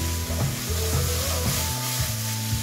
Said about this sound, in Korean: 손질한 전복과 키조개를 넣어 질겨지지 않도록 살짝만 볶아주고